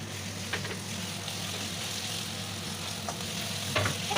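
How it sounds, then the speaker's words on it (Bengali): Ginger, garlic and green chilli paste frying in a pan, a continuous close hiss of sizzling oil broken by a few faint scrapes and stirs, with no talking. "দিয়ে দেবো আদা, রসুন আর কাঁচা লঙ্কা পেস্ট করে রাখা আছে একসাথে,"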